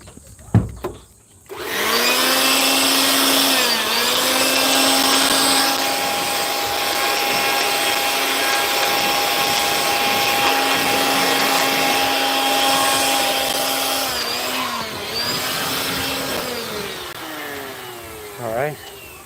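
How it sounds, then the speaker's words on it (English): Power blower clearing dust off plywood during a cargo container roof repair in the Philippines: a loud, close, sustained whine that starts abruptly after a couple of knocks, holds for about fifteen seconds, then winds down. "I'm going to blow a little dust off this plywood"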